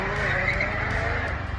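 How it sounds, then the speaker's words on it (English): A supercar engine note falling away as the driver lifts off the throttle, a strained high whine with a short, close descending tone. "You heard him lift off right there."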